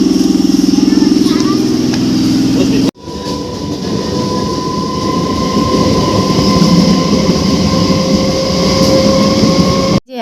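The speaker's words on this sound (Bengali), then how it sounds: "আমরা ট্রেনে উঠে পড়েছি আর সিট পাইনি দাঁড়িয়ে আছি" Inside a crowded passenger train carriage on a hot day, a loud constant rumble of the running train fills the space, with a long steady hum throughout and a brief cut partway through.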